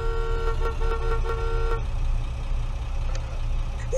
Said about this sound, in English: Stop honking whoever that is.